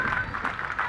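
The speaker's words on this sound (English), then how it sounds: "Please give him a round of applause." Festival crowd applauding the third-place finisher of a chilli eating contest, a brief burst of dense clapping with some crowd noise mixed in.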